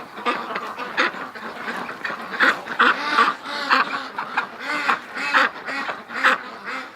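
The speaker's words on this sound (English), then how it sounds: "Oh no, we got a hurt duck." Several ducks quack close by in a busy, uneven series of loud calls, with a few overlapping voices and a hoarse honking tone, no talk.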